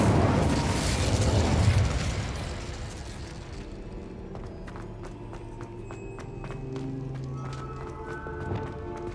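Incendio fire spell cast in the video game Hogwarts Legacy: a loud, rushing burst of flame up front that thins into a softer crackling tail with scattered small pops.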